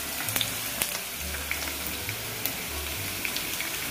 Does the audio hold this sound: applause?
no